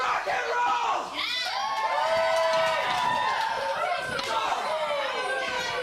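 A live pro wrestling crowd in Guelph cheers and shouts loudly and continuously, with excited children's voices in the mix. Ring impacts are scattered through it, and commentators talk over the noise.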